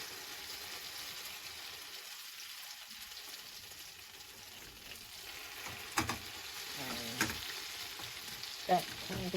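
An egg cooks as a mini omelette in a pan, giving a quiet, continuous frying hiss that grows slightly livelier, with a few soft taps from a utensil near the end and no talking.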